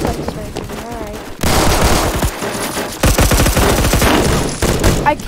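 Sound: shotgun gunfire in Roblox Phantom Forces video game

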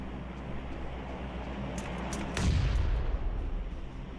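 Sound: grenade explosion in PUBG Mobile video game

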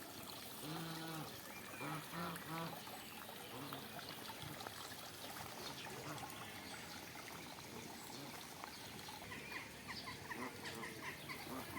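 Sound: hen with chicks clucking

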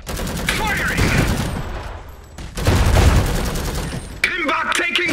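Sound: gunfire from units in video game Iron Harvest

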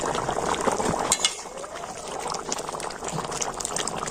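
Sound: potatoes boiling in covered pot

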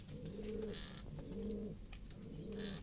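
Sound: pigeons cooing

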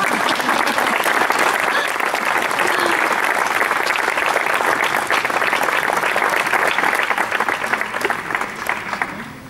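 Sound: audience applause

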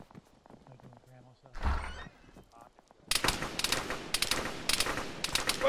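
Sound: gunfire in a video game (Arma, ShackTac)

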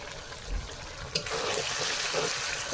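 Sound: water being poured into a pan of cooking curry

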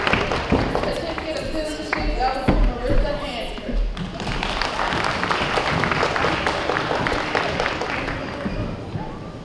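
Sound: audience applause

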